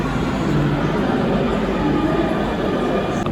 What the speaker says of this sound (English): here I am in the metro.